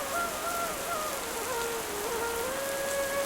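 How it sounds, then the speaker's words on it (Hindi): Heavy rain pours steadily onto surfaces, a dense continuous hiss with a faint high whistling tone of wind running through it, with no voices. "खूब जोरदार बारिश होने लगती है। बारिश के साथ हवा भी चलने लगती है।"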